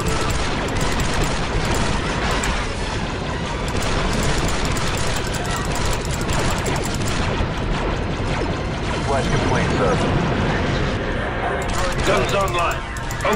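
Dense blaster gunfire in Star Wars Republic Commando crackles in continuous volleys, loud and close, with clanking mechanical sounds and voices talking over the fighting.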